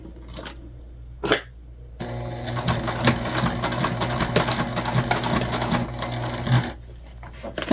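A sewing machine runs in a steady, loud stitching burst along a mini backpack seam, preceded by a few short clicks and pauses, with no talking.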